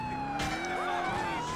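Wailing police car siren in Grand Theft Auto IV, a loud, steady rising-and-falling tone that runs through the whole clip over traffic noise.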